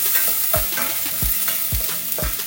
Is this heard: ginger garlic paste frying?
yes